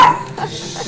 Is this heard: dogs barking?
yes